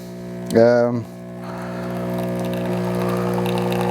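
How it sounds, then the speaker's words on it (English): Jura J8 coffee machine grinding beans for an espresso shot: a loud, buzzing grinder burst lasting about half a second up front, then a steady mechanical hum and whir continuing as the machine works. "Now the second grind is happening, so that's another shot."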